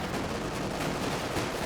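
Grenade explosions and gunfire in the wartime strategy game Company of Heroes 2, a dense continuous clatter of shots and blasts with no clear gaps.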